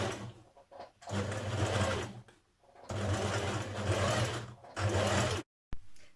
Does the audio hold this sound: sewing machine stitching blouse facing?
yes